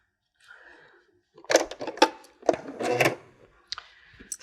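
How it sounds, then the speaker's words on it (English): A home sewing machine runs a straight stitch across layered fabric for a draught excluder, giving short close bursts of rapid mechanical clatter separated by brief pauses. "sew this down first of all"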